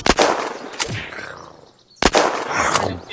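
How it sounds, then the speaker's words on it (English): Loud gunshots go off in the video game Unturned, about four sharp cracks in two pairs roughly two seconds apart, each followed by a ringing decay. "Hear gunshots, it's me."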